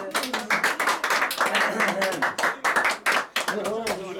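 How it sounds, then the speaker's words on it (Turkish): People clapping at a birthday surprise, a run of distinct, close hand claps in an uneven rhythm, mixed with voices talking and calling out throughout. "alkışlamıyorsunuz lan alkışlayın dedik ya"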